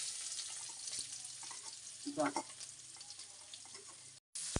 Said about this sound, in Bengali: সর্ষের তেল দিয়ে দিছি তেলের ঝাঁসটা উঠতেছে লবণ দিয়ে দিলাম পেঁয়াজ দিয়ে দিব